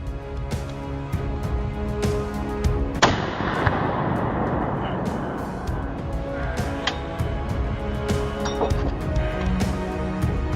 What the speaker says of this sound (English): The old hunters in the group fired in a flash